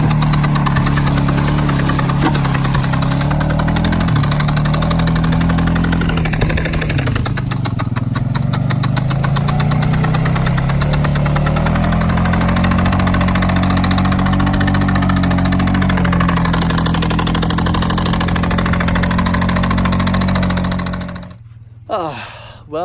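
A Yamaha Warrior 350 quad with a blown-up engine idles close and loud for about twenty seconds, a rough knocking rumble with shifting pitch, then cuts out near the end.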